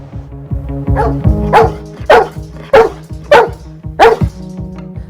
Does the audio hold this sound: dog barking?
yes